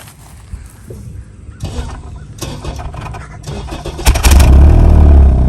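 A 2023 Honda Civic Type R engine cold-starts with a brief starter crank, then catches into a loud, close idle that swells with revving.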